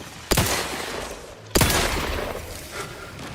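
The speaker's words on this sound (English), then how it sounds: "Was I shooting at my ally?" Gunfire in the video game The Outer Worlds 2, two loud sharp blasts about a second apart, each followed by a rumbling tail of rapid fire and echo, with no talking.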